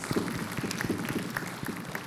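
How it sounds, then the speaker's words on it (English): Audience at a conference session applauding, a steady patter of claps through the whole stretch, moderately distant and fairly even, with no one speaking over it. "A round of applause."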